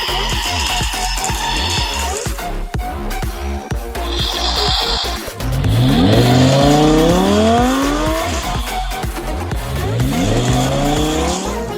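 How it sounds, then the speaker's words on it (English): A toy Lamborghini's revving engine sound effect roars loudly, with rising and falling whines and tire-squeal-like tones, close and continuous without any talking. "Touch the passenger's window to hear a reviving sound with lights on."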